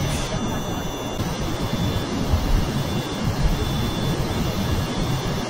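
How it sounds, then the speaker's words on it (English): A jet aircraft in Kerbal Space Program roars at supersonic speed, a loud, steady, unbroken rushing engine drone filling the whole stretch. "You hear that? She has broken sound barrier."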